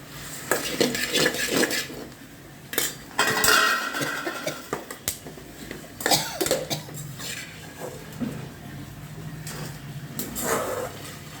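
Dried red chillies fry in a pan while a spatula scrapes and clatters against the metal in irregular bursts, close by, over a low, faint sizzle.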